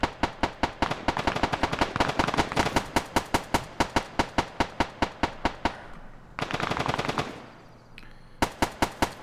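Soldiers firing in the video game Arma 3: loud, evenly spaced rapid machine-gun shots in long bursts, a brief denser volley, a short lull, then more shots.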